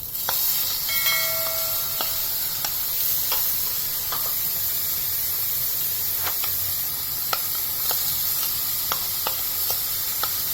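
Moong dal hitting a hot pan for paruppu pattani sundal, a steady loud sizzle with scattered crackles and light stirring scrapes throughout.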